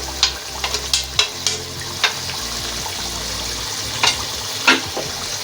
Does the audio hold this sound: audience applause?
no